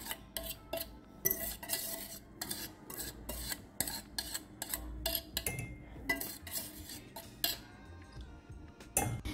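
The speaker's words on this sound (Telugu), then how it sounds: "సో దీన్ని బాగా విస్క్ చేసుకుందాము మనం ఇందాక వేసుకున్న దాన్ని." Brownie batter of icing sugar and egg being whisked in a bowl: a run of quick, irregular scraping and clinking strokes of metal against the dish, fairly close and fairly quiet, with no voices.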